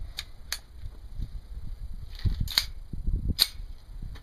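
A 9mm handgun fires at targets 50 yards away on an outdoor range: several sharp, distinct gunshot cracks, spaced irregularly and heard from moderately close against quiet background noise.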